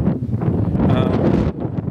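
Gusty wind on Bodmin Moor in Cornwall buffets the microphone with a steady low rumble and rushing noise, fairly loud and close, with no clear voices.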